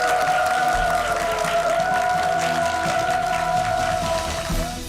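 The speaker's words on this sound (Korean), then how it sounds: "큰 박수로 맞아주세요" A studio audience gives a guest a warm welcome with sustained applause on a Korean television talk show, a dense wash of clapping that holds steady over a faint tonal background.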